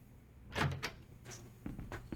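A door opens and closes as a character walks out in the Yakuza 4 Remastered video game, a soft thud followed by a few lighter clicks and rattles, quiet and close with no talk.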